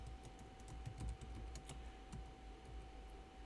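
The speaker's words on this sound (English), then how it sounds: "you could just go into your syntax editor and you could just type this" Fast, quiet clatter of keys on a computer keyboard as text is typed into a syntax editor, a run of light close-up clicks in quick bursts with short gaps.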